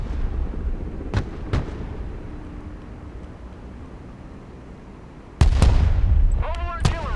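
Mobile artillery in the Broken Arrow video game fires a few sharp, loud booms, two early single shots, then a heavier blast with rumbling echo and more reports near the end, with faint game voices in the background.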